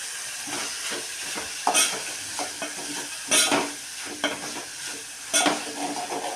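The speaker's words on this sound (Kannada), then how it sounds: "ಈರುಳ್ಳಿದ್ದು ಫ್ರೈ ಮಾಡ್ಕೊತಾ ಇದ್ದೀನಿ" Finely chopped onions fry in a pan with peanuts, sesame, cloves, pepper, coriander and mint for a home-made chicken biryani, giving a steady close sizzle broken by a few louder bursts of stirring, with no talk.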